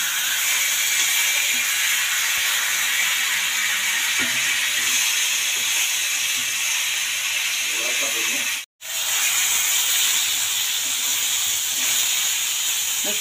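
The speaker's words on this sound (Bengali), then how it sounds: "এই বড় পাঙ্গাসটা ভাজবো" Large pangas fish pieces fry in hot oil with a steady, loud, close sizzle that runs throughout, with a brief faint voice partway through.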